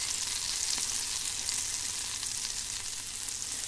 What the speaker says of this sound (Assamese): প্ৰথমতে ডালচিনিকেইটা দি লওঁ আৰু লং, ইলাচি, তেজপাত দি পেলাই পিঁয়াজখিনি দি ল'ম